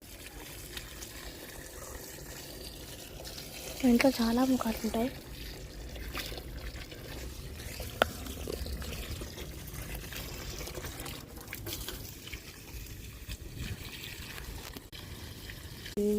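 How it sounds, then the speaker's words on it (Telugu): Water is poured onto potted plants at home. A soft, continuous splashing trickle swells briefly into a louder gush, while someone talks over it throughout. "చూద్దాం, నీళ్ళు పోస్తున్నాం ఇప్పుడైతే."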